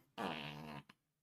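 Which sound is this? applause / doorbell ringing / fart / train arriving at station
fart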